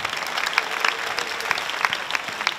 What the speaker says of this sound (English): Let's put their hands up and give them a round of applause.